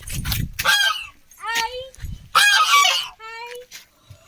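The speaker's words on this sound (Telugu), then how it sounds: "ఇదిగోండి బాతులు" Ducks or geese calling close by, a series of loud, nasal honks in uneven bursts with brief gaps between them.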